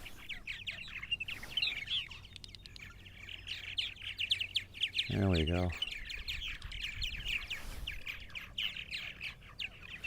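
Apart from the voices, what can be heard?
purple martins calling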